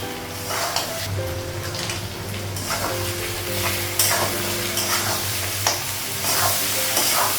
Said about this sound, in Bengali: লবণ, মশলাটা একটু ভেজে নেব।